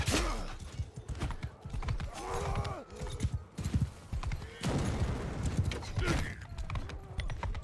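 A horse gallops in Mount and Blade II: Bannerlord during a multiplayer siege, its rapid hoofbeats thudding alongside creaks, whinnies and battle noise at moderate volume.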